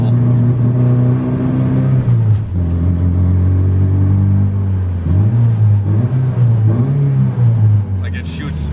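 A Honda Civic's D16Z6 engine with a Brian Crower cam, running lean on E85 flex fuel on a dyno, bucking as it drones loudly and close, its pitch surging and dipping unevenly as it hunts back and forth.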